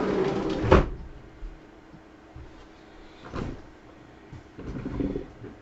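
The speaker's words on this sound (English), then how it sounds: "Close this back door to stop the wind from blowing through here." A back door being shut in a room during a laptop repair, one firm thud early on, followed by quieter knocks and shuffling against a faint background.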